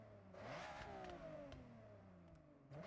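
A 1998 Nissan Skyline GT-R 40th Anniversary Edition with a race ignition revs its exhaust in a racing video game, engine pitch rising and falling steadily and loudly for a few seconds with no talking.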